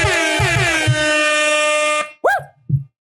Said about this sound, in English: Give me some air horns.